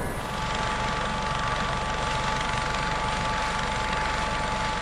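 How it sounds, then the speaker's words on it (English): Sikorsky S-97 Raider, a high-speed compound helicopter with two coaxial counter-rotating rotors, gives a steady loud rotor and engine drone with a constant whine, unbroken throughout and heard without talk. "The Sikorsky S-97 Raider is a high-speed, compound helicopter developed by Sikorsky Aircraft"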